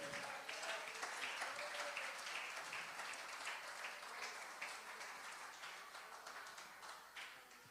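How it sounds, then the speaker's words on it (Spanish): Crowd applause, dense and steady, gradually fading over several seconds. "Denle un aplauso a Él, aleluya."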